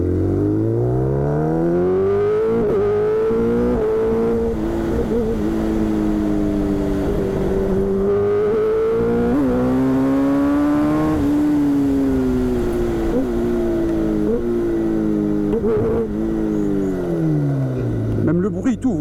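A 212 hp Kawasaki Ninja ZX10R sport motorcycle accelerating hard, its engine note climbing through several gear changes in a loud, continuous run, with a rider's voice audible at times.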